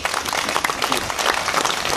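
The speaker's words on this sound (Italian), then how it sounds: "intanto un applauso" Audience applause at a book presentation for a poetry collection, a dense, steady burst of many hands clapping that fills the whole moment, fairly close and loud with no voices over it.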